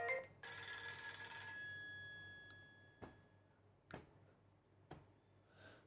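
Nostalgia ringtone on a Nokia Lumia 635 phone: a bright bell-like ring sustains for a couple of seconds and fades, followed by a few sparse soft taps and faint chimes, quiet and with no voices.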